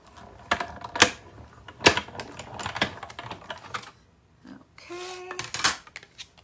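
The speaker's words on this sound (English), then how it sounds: "So let's grab our Stampin' Cut and Emboss machine and do a quick run through and just cut that out of the middle." A Stampin' Cut and Emboss die-cutting machine is cranked through with a run of sharp ratcheting clicks and knocks. A brief squeaky whine follows after a short pause, and no one talks.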